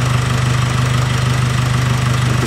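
Nissan X-Trail engine idling with a code P0235 turbo boost sensor fault, a loud, steady low hum with an even pulsing throb, close and continuous, no talk.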